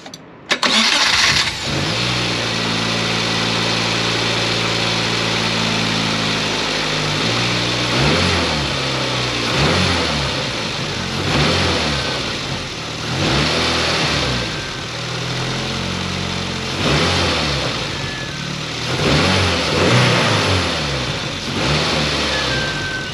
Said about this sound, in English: So when I rev the car to 2000, you guys see this test light come on